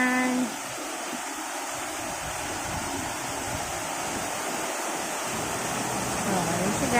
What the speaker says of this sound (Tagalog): So, pumapasok ng tubig pala doon sa loob.